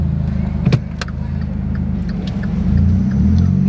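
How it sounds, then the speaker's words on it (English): A car engine idles with a low rumble and builds as the car pulls away on a San Francisco street, a couple of sharp knocks early on and no voices. "I forgot to turn on the car and now I'm trying to drive."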